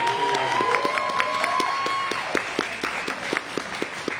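An audience at a poetry open mic claps in scattered, uneven bursts, with a few cheers and crowd murmur early on, then thins toward a sparse, steady clap.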